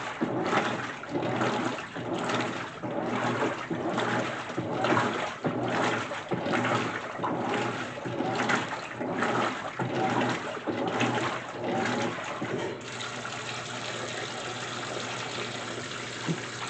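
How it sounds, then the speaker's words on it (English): A GE washer on its Casuals cycle with decorative pillowcases sloshes in rhythmic agitation surges, then settles into a steady rush of water filling the tub. "casuals is another one of the cycles that fills up with extra water after a few minutes of agitating"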